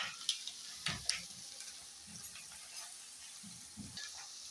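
Chicken wings frying in a pan with garlic and ginger: a soft, steady sizzle with occasional stirring clinks and scrapes, fairly faint and close, with no talking.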